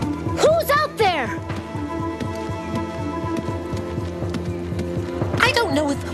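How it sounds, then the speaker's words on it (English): Steady, rhythmic padding footsteps of an approaching snowshoe hare in a snowy North Pole cartoon setting, a continuous thumping beat throughout, with short vocal sounds at the start and near the end. "Cousin Mako, if we've stopped walking, how come I still hear footsteps"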